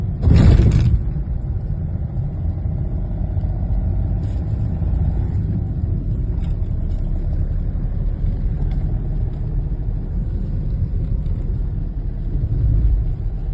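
A 2017 Hyundai Xcent drives along with a steady, loud low rumble of engine and road noise, opening with a short burst of louder broadband noise before settling into an even drone.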